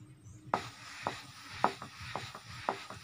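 A rolling pin works singara dough on a board, making a few rhythmic knocking, clacking strokes roughly half a second apart, faint and close, with no talk.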